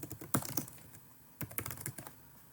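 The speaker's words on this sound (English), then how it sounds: "this is a blurb I am typing" Quick bursts of keyboard typing, close up, with clustered key clicks separated by short pauses; no voices.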